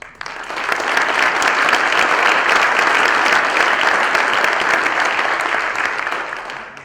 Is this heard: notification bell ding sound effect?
no